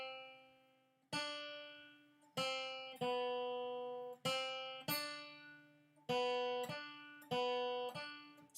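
A guitar plays a short run of single notes from a beginner reading exercise, eight clearly separated plucks in an even rhythm, each ringing and fading before the next, close and quiet, with no talk.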